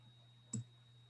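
A single sharp computer mouse click on a filter option, short and close, against a faint steady electrical hum with no talk.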